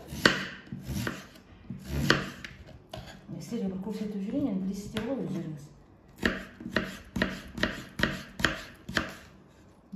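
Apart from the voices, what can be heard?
chopping potatoes with a knife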